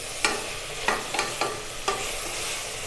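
Chopped tomatoes and onions sautéed in oil in a pan for kuska biriyani, under a steady close hiss of frying cut by several sharp scrapes of a spoon against the pan.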